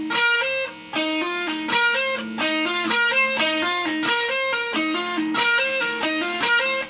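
Electric guitar plays a riff, a steady run of picked, hammered-on notes with a bright, slightly driven tone, continuous and close with no voice over it.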